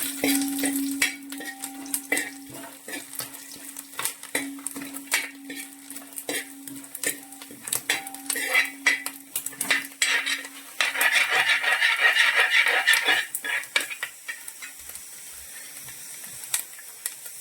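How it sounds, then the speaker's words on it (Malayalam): Coconut pieces and dried red chillies fry in a pan for a Kerala-style beef fry: repeated sharp metal spatula scrapes and clinks over a low sizzle that swells louder near the end. "തേങ്ങാക്കൊത്ത് മൂത്ത് വരുന്നുണ്ട്. അപ്പം നമുക്ക് അതിലേക്ക് നമ്മൾ എടുത്ത് വെച്ച് ഉണക്കമുളകും കൂടി അത് ഇട്ട് കൊടുക്കാം"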